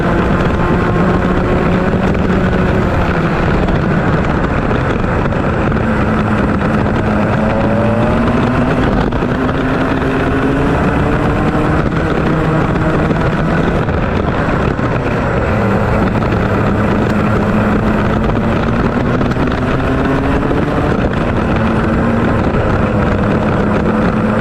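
Racing karts accelerating off the grid at a race start, a loud dense roar of several small engines with rising and falling whines overlapping continuously, close and sustained throughout.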